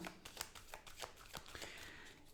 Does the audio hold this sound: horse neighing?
no